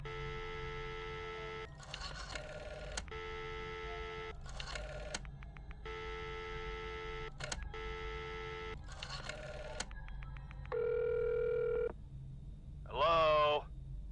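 A telephone in the Friday the 13th video game rings in repeated electronic bursts separated by short gaps, followed by a couple of different tones near the end, faint and clear.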